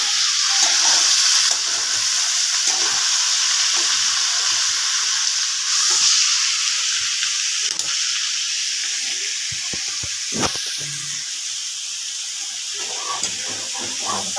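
Potatoes and onions fry with whole garam masala and turmeric in a pan, giving a continuous bright sizzle and hiss with occasional sharper crackles and clinks, no voice over it.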